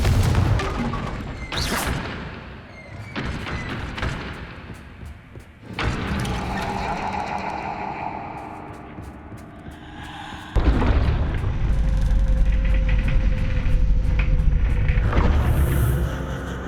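Heavy booming blasts from Confringo fire spells in the video game Hogwarts Legacy, several loud thumping explosions with rumbling tails, a big burst near the middle and a sustained roaring barrage toward the end.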